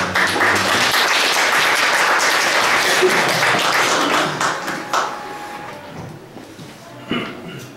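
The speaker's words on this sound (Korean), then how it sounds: "박수를 해주시기" At a dealership business briefing, an audience applauds the CEO of Woojin General Trading, a thick round of clapping that holds steady for several seconds before thinning out into scattered claps.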